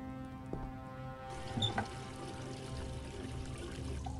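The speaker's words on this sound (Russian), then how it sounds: "Давайте пойдем наберем воду." Water pours and trickles into a bucket in the horror escape game Metel, a steady running splash with a brief clunk partway, moderately loud and alone with no talking.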